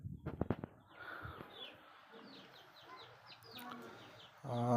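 Tiger breed chickens clucking on a small poultry farm, a run of short repeated clucks and chirps at close range, with brief rustling and thumps at the start and end.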